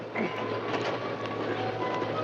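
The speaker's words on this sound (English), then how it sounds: "Sounds like a train now." A train approaching over a river trestle in an old film scene, a steady loud rumble of rolling wheels and rail clatter with a low constant drone, continuous and close.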